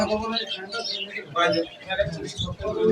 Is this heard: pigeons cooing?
yes